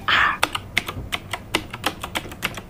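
Clicky keystrokes on an avocado-green mechanical keyboard, about a dozen crisp taps in an uneven rhythm, close and clear after a brief burst of voice at the start.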